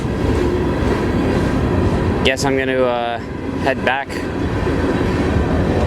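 Train cars rolling along rail tracks in New England, a steady loud rumble throughout with a clear squealing, ringing passage midway, while someone talks over it.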